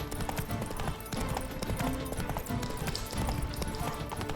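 Hooves of the horse Roach in The Witcher 3, a rapid repeated clip-clop as the horse runs in place, with faint game sounds behind.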